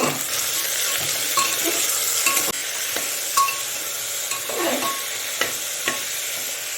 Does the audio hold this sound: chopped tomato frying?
yes